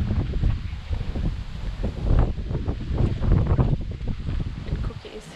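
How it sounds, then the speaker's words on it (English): Wind gusting across a campsite with two tents and a trailer on a South Australia road trip, a steady rough rumble with rising and falling buffeting on the microphone. "now the wind has picked up and it's cooling down"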